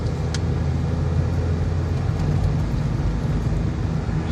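Inside a car driving along a rough private road in a rural area, a steady low rumble of engine and tire noise holds evenly throughout with no voices.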